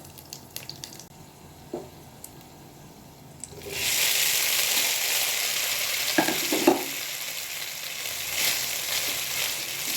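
Rice parboiled to about 80% for jorda goes into a hot pan: a few quiet clinks, then a sudden loud, sustained sizzle with scraping stirring sounds over it.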